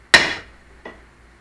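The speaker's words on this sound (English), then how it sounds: "So we're going to use a piece of wood and a hammer." Two hammer taps on a piece of wood held against part of a small outboard motor: a sharp, loud first knock, then a softer second tap close by, alone with no talking.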